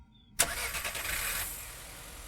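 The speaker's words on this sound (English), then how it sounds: "The sound of a car starting is coming from outside the door." Car engine starting outside a door in the horror game Firework: a sharp crank catches into a loud, steady rumble that gradually settles and fades, alone without talk.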